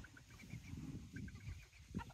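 Chickens cluck softly in a backyard chicken run, a scatter of short, repeated clucks from several birds over low background noise, with no talk.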